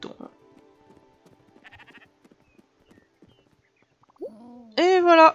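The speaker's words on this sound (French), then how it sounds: "Tu as ramené un deuxième mouton." Sheep in the farming game Spiritfarer bleat twice near the end, a short rising call followed by a louder wavering bleat, after quiet game sounds and soft clicks.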